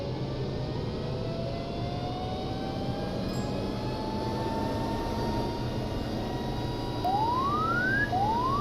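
A T-6 Texan trainer engine in the Flight Simulator X game holds a steady, droning hum, with gliding tones that slowly rise and climb sharply near the end. No voices are heard.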